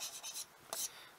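Chalk or a marker scratches across a classroom board in a few short strokes, soft and close, with no speech.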